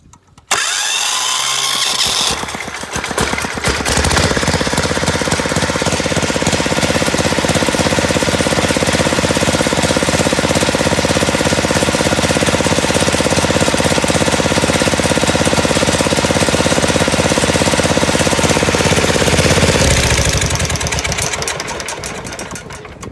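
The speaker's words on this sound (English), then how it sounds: "So you can see the electric start works." A small engine on a plow-day rig fires up on its electric start after a short rough cranking, then runs loud and steady at a hard, hammering pace for about twenty seconds before tailing off.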